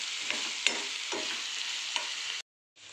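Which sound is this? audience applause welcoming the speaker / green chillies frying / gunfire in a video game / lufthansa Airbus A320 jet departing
green chillies frying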